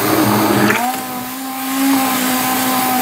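An electric hand mixer whirs steadily while beating a henna hair-dye mixture, its motor tone dropping and settling into a continuous loud drone after a brief rougher start.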